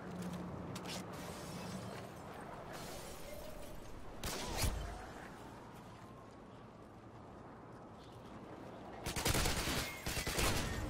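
Gunfire from the video game Modern Warfare 2, with rattling bursts of shots over a steady backdrop of battle noise and a loud cluster of rapid blasts near the end.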